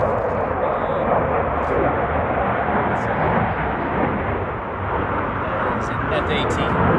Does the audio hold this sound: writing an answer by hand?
no